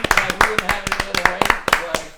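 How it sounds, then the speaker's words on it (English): A small group claps briskly and unevenly for about two seconds, close and loud, with voices audible alongside in a casual podcast setting. "let's give her a round of applause"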